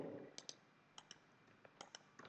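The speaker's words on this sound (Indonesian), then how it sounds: "Oke, saya akan coba klik ya di sini." A computer mouse is clicked several times in quick pairs, like double-clicks: sharp, faint, close-up taps spaced across a quiet background.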